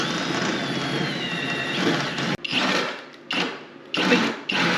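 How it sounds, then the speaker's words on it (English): A handheld drill with a step bit reams out bolt holes in an old rusty boat trailer, a loud steady whir that stops and restarts in several short bursts near the mic. "got one of these step bits, and that should be perfect for reaming these holes out and getting them to the right size for the bolt to go through"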